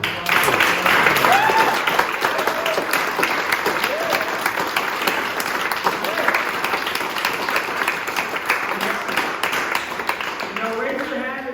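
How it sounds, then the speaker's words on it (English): A crowd at a copwatch training session gives a long round of applause, steady dense clapping with scattered voices and a few whoops mixed in. "I want everyone to please give a round of applause"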